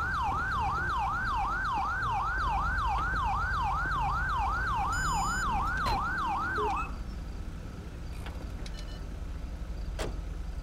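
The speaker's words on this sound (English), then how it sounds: "I'm going to turn my siren off." Police car siren in Grand Theft Auto V, a loud electronic wail cycling rapidly up and down for about seven seconds before cutting off abruptly, leaving engine and road noise beneath.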